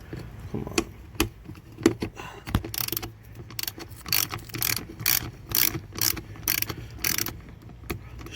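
Ratchet loosening bolts under the hood of a 2000 Ford Ranger during a mass air flow sensor replacement, with repeated bursts of sharp clicking pawl strokes, close and fairly quiet, irregular at first then in a steady rhythm.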